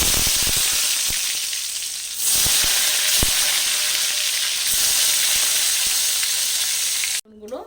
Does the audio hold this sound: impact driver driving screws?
no